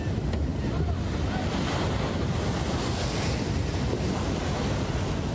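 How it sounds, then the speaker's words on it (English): Storm-driven ocean waves crash over the seawall at Mission Beach and flood the boardwalk during an atmospheric river, heard as a loud, steady roar of surf mixed with heavy wind buffeting. "waves crashing over the seawall in Mission Beach this morning, flooding the boardwalk"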